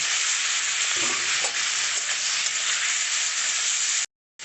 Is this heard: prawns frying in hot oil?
yes